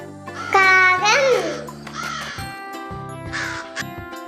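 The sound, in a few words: crow cawing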